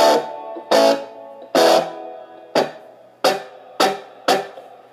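Electric guitar through a distorted Danelectro Honeytone amp, seven loud struck chords spaced about a second apart, each ringing out and fading before the next.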